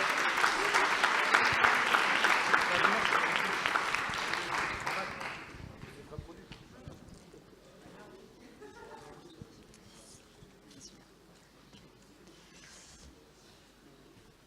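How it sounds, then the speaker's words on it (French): Audience applause at a tourism startup pitch contest, loud clapping for about five seconds that quickly fades to quiet room tone with faint stray sounds. "Merci de les applaudir."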